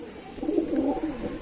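A red-vein female pigeon gives a soft, low, rolling coo at close range, steady over a quiet background.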